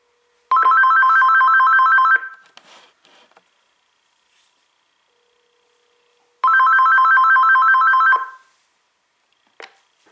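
An AT&T SynJ SB67118 speakerphone rings for an incoming call, two loud close electronic trilling bursts about two seconds long separated by silence, with faint handling clicks after each.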